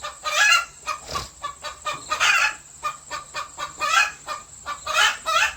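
Chickens cluck repeatedly in a 25 by 22 shed where the flock is kept overnight, the calls rising and falling in steady waves, with a rooster crowing among them; no voices.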